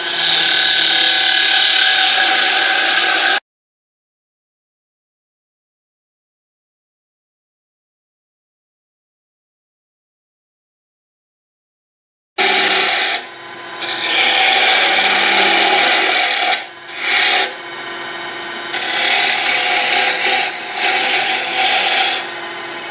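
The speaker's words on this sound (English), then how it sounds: "we'll take our bowl gouge and we'll turn away all of that material" A bowl gouge cuts wood on a lathe while a scoop is turned, giving a steady, loud, close rasping scrape. It comes in two long runs separated by a silent pause, with no talking.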